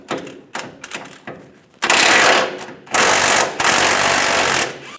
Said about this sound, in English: On the sides, there's two nuts that you want to take off.